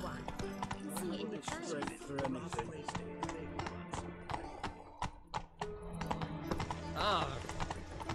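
Horse hooves clip-clopping at a steady riding pace in a video game, rhythmic hoof taps layered over game music and ambience, with a brief whinny-like sound near the end.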